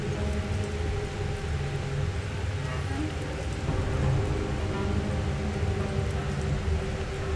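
Steady rain falls in the video game Deus Ex Mankind Divided, a continuous hiss of drops with a low rumbling ambient bed underneath and no talking.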